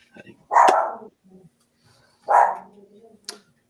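A dog barks twice, loud and close, with a pause between the barks. Faint voices and small indoor noises come in the gaps.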